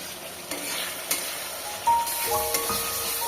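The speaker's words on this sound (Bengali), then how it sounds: "কষানো হয়ে গেছে, এবার ধনে পাতার পেস্টটা দিয়ে দিলাম। এবার ভালো করে নাড়াচাড়া করবো।" Coriander paste is stirred into sizzling masala for a hariyali katla fish curry, with a continuous close frying hiss broken by a few spoon scrapes and knocks against the pan.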